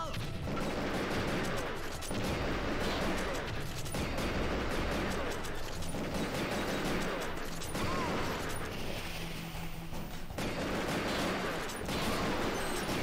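Enemy gunfire in a shooter video game, bursts of rapid shots repeating throughout at moderate loudness, broken by short gaps, with game noise in the background.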